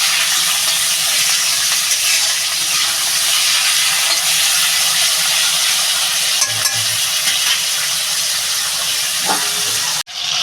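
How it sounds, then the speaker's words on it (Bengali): Salted potatoes fry in a pan, giving a loud, steady, close sizzle and hiss that continues for about ten seconds, with occasional scraping from stirring and a brief drop near the end. "আগে নুনটা দিয়ে ভালো করে আলুটা ভেজে নেবো"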